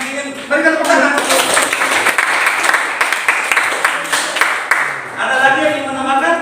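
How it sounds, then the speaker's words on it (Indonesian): Students in a classroom break into applause, a dense wash of many hands clapping for about four seconds, with voices heard over the clapping before and after. "Ada yang lain yang ingin berikan tepuk tangan?"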